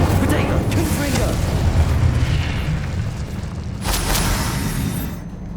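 Confringo blast spells go off in the Hogwarts Legacy game, mixed with other combat spells: loud booming explosions and bursts over a dense, steady battle din that fades near the end.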